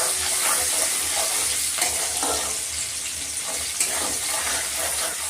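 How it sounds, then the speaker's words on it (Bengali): Chow mein noodles frying in oil in a kadai with onion and green chilli, giving a steady, close sizzle with soft scraping and stirring throughout. "এখানে হচ্ছে চাউমিনটা মা ভেজে নিচ্ছে"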